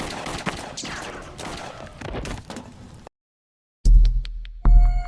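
Rapid bursts of gunfire crackle for a few seconds, then silence, followed by two sharp, loud bangs.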